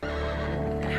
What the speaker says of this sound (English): How do they get horses in space?